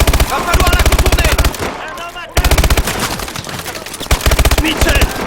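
Rapid bursts of armoured turret machine gun fire in Call of Duty: Advanced Warfare, loud and close, firing in long rattling strings with a short gap before resuming.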